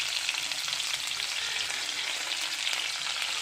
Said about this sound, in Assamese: তাত তেল অলপ দিলোঁ, পিঁয়াজ দিলোঁ, তেজপাত দুখিলা দিলোঁ